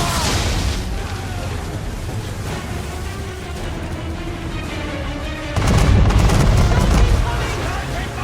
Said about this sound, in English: Man of War's broadside!